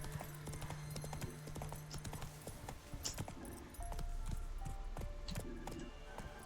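Hooves of the horse Roach clip-clop steadily in The Witcher 3 game world, a fairly loud continuous gait with ambient game music and effects layered beneath.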